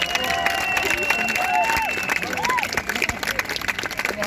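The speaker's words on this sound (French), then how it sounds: "Merci de lui faire un tonnerre d'applaudissements." Rally crowd in Geneva applauding a spokesperson for a French Jewish peace union, dense clapping and cheering filling the space with whistles and overlapping voices, loud and continuous throughout.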